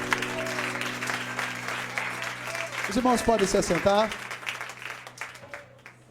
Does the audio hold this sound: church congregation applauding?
yes